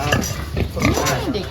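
Pigs grunt and squeal while being loaded at a market for oversize pigs and gilts, with continuous animal noise and handling bustle close by and voices mixed in.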